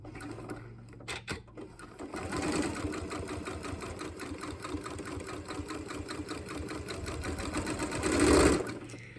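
Sewing machine stitching a quilt's binding: after a few clicks, a fast steady mechanical whir and needle chatter runs close and continuous, swelling louder near the end.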